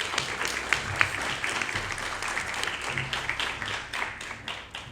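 A school awards-night audience applauds students with continuous, fairly close clapping, a steady mass of hand claps holding level before easing slightly at the end.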